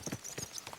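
Horse hooves in the video game Kingdom Come Deliverance 2, a quick, faint run of clip-clop beats as the horse sets off at speed.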